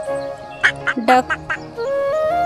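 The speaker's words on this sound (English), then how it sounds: "duck" A duck gives a quick run of about five short, nasal quacks in a tight cluster, loud and close, set against a steady background tone.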